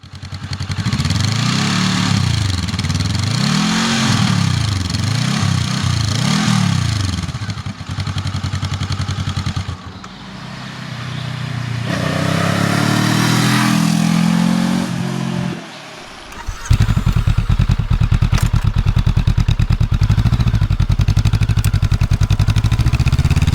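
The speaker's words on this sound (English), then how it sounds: "The CL500 is more of a leisurely bike with which you consciously enjoy every kilometer." A Honda CL500 motorcycle is ridden on the road, its mid-range engine humming steadily with rising and falling revs and gear changes. Strong wind rush is mixed in, with a brief dip when the throttle is closed. No one talks.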